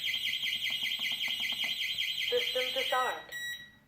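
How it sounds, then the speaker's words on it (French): A loud, rapidly pulsing electronic alarm from a Smanos K1 home security system beeps continuously while being disarmed, shifts to a different tone pattern, then cuts off abruptly near the end. "et l'alarme est maintenant désactivée"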